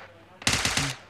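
A short rapid burst of automatic gunfire in the mobile game PUBG Mobile Lite, about five quick shots in half a second, loud and close after a brief quiet lead-in.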